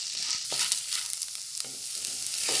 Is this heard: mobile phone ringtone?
no